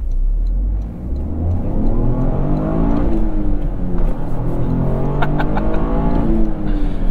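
A 2023 Toyota GR Corolla Core's engine revs hard under acceleration, a loud, raw, rising drone with shifting tones that climbs through the gears, heard close and alone without talk.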